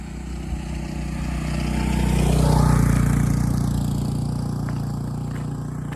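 An engine approaches steadily, swells to a peak at the midpoint, then fades as it moves off, with a low rumble and rising-then-falling pitch typical of a passing motorbike.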